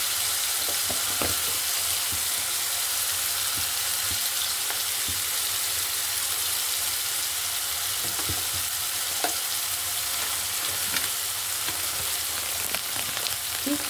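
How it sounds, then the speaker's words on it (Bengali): Spices sizzle and fry steadily in a pan for a katla fish curry, a continuous close hiss with occasional stirring clicks and scrapes throughout, no voices. "মশলাটা আমি কষিয়ে নিচ্ছি"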